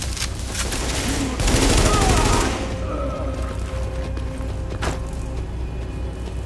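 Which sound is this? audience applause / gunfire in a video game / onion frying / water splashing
gunfire in a video game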